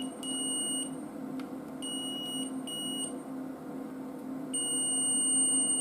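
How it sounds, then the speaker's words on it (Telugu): Multimeter continuity tester buzzer beeping while checking a computer power cord plug, several sharp high-pitched beeps of varying length with short gaps, close and clear over a low hum. "సో మనకు బజర్ సౌండ్ అయితే వస్తుంది."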